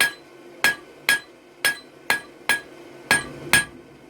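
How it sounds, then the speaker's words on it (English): A hammer draws out thin hot steel over the radiused edge of an anvil while forging a leaf hook: about eight sharp, evenly spaced ringing blows, close and loud, with no talk. "I'm drawing out over the edge of my anvil, which is radiused and acts as a fuller"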